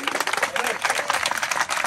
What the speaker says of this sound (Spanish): Vamos a hacer un aplauso a nuestra Madre Santísima, también la Virgen de Lourdes.